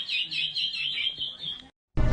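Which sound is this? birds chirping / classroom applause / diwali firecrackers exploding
birds chirping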